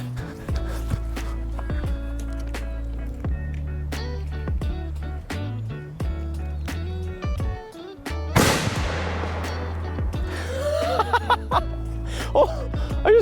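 A homemade cannon fires at a tree stump outdoors, a single loud boom near the middle followed by scattered clattering and debris noise, with music-like tonal background throughout.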